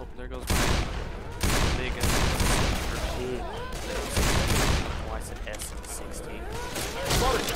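SMG fire from the Left 4 Dead zombie shooter, rapid bursts in quick succession mixed with other gunshots and game noise, while players talk over the shooting.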